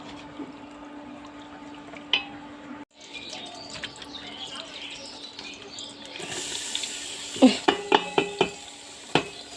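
Vegetables and potatoes frying in a pan and being stirred and mashed, a low sizzle early, then louder, with a run of sharp spoon-against-pan knocks toward the end.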